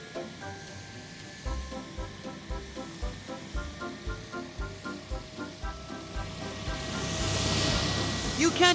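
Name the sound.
cartoon helicopter flying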